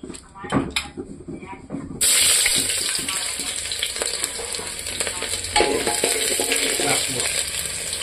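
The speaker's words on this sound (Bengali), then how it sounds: "তেলও গরম হয়ে গেছে। আমি এটাতে এখন পেঁয়াজ দিয়ে দেব।" Onions dropped into hot oil in a pressure cooker set off a loud, steady sizzle after a short quieter start, with stirring clatter and a brief swell midway.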